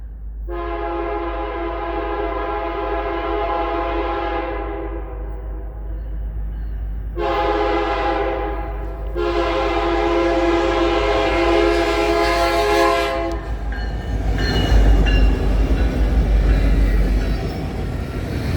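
Canadian Pacific SD70ACU locomotive leading a KCS SD70ACE on a freight train, with a loud multi-tone horn sounding in three long blasts before the train's rumble and rail noise swell as it passes close by.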